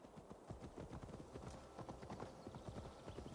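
Horse hooves clip-clopping in a steady galloping rhythm across the Assassin's Creed Valhalla game, loud and close, with a faint whinny and no talking.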